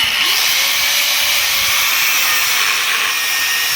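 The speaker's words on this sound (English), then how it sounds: "You get your grinder and you just grind the head away" An angle grinder is cutting the head off a stubborn wheel stud in a steady, loud, high-pitched whine. The tone dips slightly at the start and then holds without a break.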